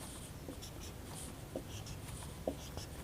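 A marker or chalk scratches across a board during a chemistry lesson, faint and close, with a few brief tapping strokes over a quiet room hiss.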